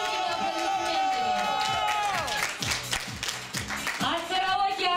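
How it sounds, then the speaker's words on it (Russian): Audience applauding at a karaoke award ceremony during a football-themed karaoke final, a burst of clapping and cheering from a crowd mixed with music and a voice over it. "Можно вручать громкими аплодисментами."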